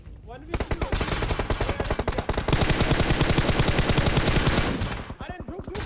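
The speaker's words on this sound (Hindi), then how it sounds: "गोलियां चली" Sustained bursts of automatic gunfire in a PUBG Mobile squad fight, rapid loud shots rattling almost nonstop for about five seconds before stopping.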